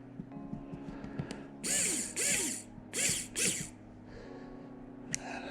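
Small screwdriver tightening a longer screw inside an iPhone 8 during a repair, heard as several short close ratcheting bursts in a quiet room.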